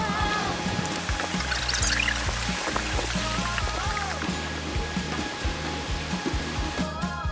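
Water pouring down at Phu Sang waterfall in a Thai national park, a continuous broad rushing hiss that stays steady and close throughout, with faint background voices underneath.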